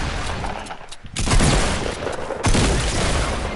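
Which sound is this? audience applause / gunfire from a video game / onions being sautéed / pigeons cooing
gunfire from a video game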